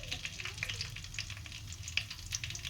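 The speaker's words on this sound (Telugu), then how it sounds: "ఇప్పుడైతే నేను మసాలా స్పైసెస్ అన్నీ వేస్తున్నాను" Masala spices and green chili fry in hot oil for a fish curry, a continuous close crackling sizzle with sharp pops scattered through it and faint stirring.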